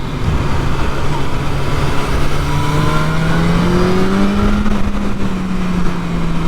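A 2022 BMW S1000R sport motorcycle engine drones steadily under heavy wind rush while riding. The tone climbs gradually in pitch as it revs up, then eases slightly, loud and close throughout.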